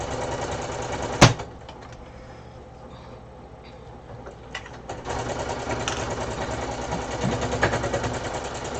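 A sewing machine stitching a large grocery tote bag, running with a steady mechanical whir and rhythmic needle chatter, broken by a sharp knock early on, then picking up again louder for the remaining seconds.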